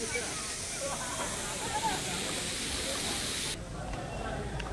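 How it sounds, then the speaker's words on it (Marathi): A small stream of water falls from above at the Ellora caves, a steady, moderately distant rushing hiss that drops off sharply near the end. "वरून पाणी खाली पडत आहे।"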